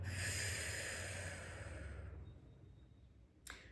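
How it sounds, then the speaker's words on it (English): A single long exhale breathes out close to the microphone, starting strong and fading away gradually. A soft breathy catch follows at the very end. "Breathe out."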